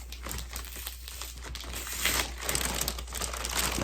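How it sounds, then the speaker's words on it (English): Plastic wrapping and tape on a pair of Air Jordan 1 sneakers crinkle and crackle steadily at close range over a low constant hum, with no talking. "So they come wrapped in, like, this plastic, right? And this tape is right here."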